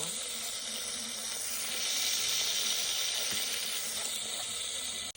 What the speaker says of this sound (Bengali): তারপর পেঁয়াজ কুচি, কাঁচামরিচ কুচি, ভালোভাবে নাড়তে হবে আমাকে।